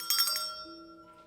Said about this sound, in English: Here I have a bell.